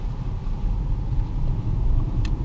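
A manual car pulls away under acceleration in a student driving lesson, its engine giving a steady, loud low rumble from inside the cabin with no voices.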